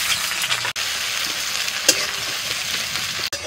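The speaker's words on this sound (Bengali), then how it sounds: "পেঁয়াজটা একটু ভেজে নিয়ে" Onions sizzle and crackle steadily in hot oil in a pan with dried red chillies, a continuous close frying hiss broken by a couple of brief stirring knocks.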